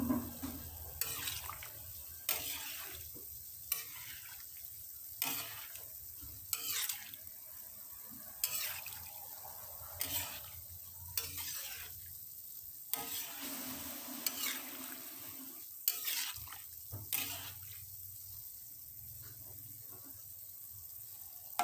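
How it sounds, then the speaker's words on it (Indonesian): Cimol tapioca balls are stirred in a frying pan, with a soft steady sizzle and clear, regularly spaced scrapes and knocks of the utensil against the pan. "kita aduk-aduk terus sampai si cimol ini kering"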